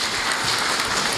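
Brief burst of audience applause at a palm oil socialization expo, a continuous wash of many hands clapping at moderate volume with no voices heard.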